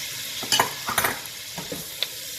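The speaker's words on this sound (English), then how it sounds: "Let it sizzle for like a minute or so." Vegetables for sweet and sour chicken sizzle in hot oil in a pan, a steady bright hiss with a few clanks and scrapes of a utensil stirring, close and fairly loud.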